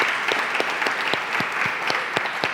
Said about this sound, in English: a round of applause for Derek, who's helped facilitate this whole visit